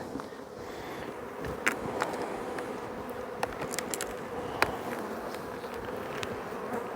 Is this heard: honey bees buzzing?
yes